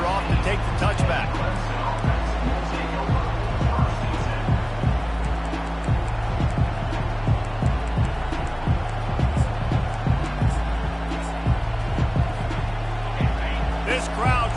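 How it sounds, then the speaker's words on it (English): A packed football stadium crowd roars continuously, with a loud, rhythmic low thumping pattern of drums or stomping running through the whole stretch. "This crowd trying to make life miserable for this offense."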